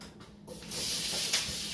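Sliced apples hitting hot butter in a cast iron skillet, a sudden broad sizzle that swells and holds steady, loud and close with no talking.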